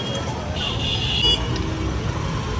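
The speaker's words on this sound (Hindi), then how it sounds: "भाई पटना में जो है ना ट्रैफिक भी बहुत है, देख रहे हो ना" Steady road traffic rumbles through a crowded street in Patna, a continuous low wash of car and bus engines with a brief faint horn toot, moderately distant and unbroken.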